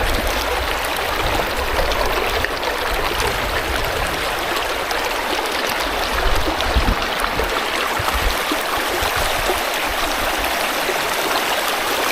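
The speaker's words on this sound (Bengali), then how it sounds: "আর পানির গর্জনটা একবার শুনুন" A rushing stream at Sada Pathar, Sylhet flows among rocks. Its loud, steady roar of water fills the whole stretch without a break, and no voices are heard.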